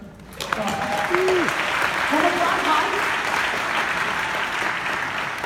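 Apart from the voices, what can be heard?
audience applause at a keynote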